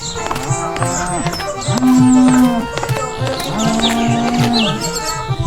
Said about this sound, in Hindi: जहां सारे भैंसे बंधे थे।